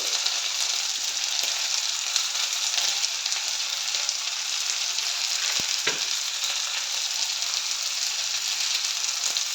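Steady, close sizzling of soya chunks, carrot, ginger and garlic frying in a hot pan, constant and loud throughout, with a few faint scrapes of stirring.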